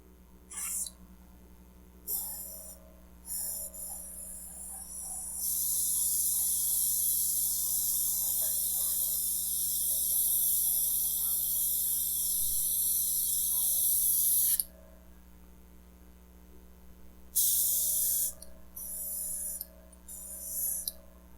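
An airbrush compressor spraying paint: a steady hissing spray runs for several seconds between shorter bursts of air, with a constant low mechanical hum of the compressor underneath.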